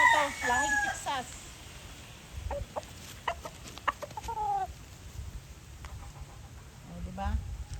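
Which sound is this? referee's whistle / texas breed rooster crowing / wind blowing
texas breed rooster crowing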